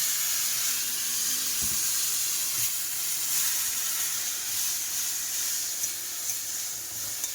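Water poured into a pan of new potatoes frying in oil with garlic, bay leaf, five-spice seeds, salt and turmeric sets off a loud, continuous sizzling hiss that holds steady throughout.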